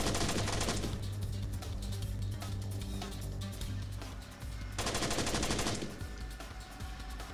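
Automatic gunfire in the Splinter Cell video game, with two loud bursts of rapid fire at the start and again near the end, separated by quieter game sounds and rumbling in between.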